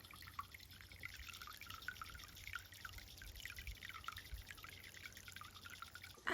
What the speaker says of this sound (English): And it's just this little fountain.